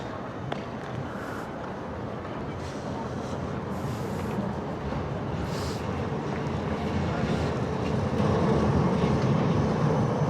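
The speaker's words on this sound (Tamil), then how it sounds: "எங்கள் ட்ரெயின் வருது, ட்ராம்." A city tram pulls in on a street in Bern, Switzerland, as a low, broad rumble and rush that slowly swells louder, with a faint voice and a few soft high tones over the noise.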